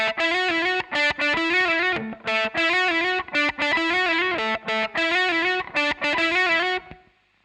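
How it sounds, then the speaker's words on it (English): Heavily distorted electric guitar plays the synth lead melody from a song in short, choppy repeated phrases with slides, solo and close, ending in a brief decay. "Then we've just got like the synth lead line or little melody parts that happen throughout the song."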